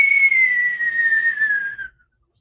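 A human voice imitates a football whistling through the air: a single high, clear whistle held for about two seconds, sliding slightly downward in pitch before cutting off into silence.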